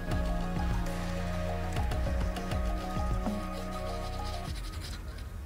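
Wet squishing and dripping sounds of ferric chloride being diluted and stirred in water, with scraping and tapping against a container over a steady low hum.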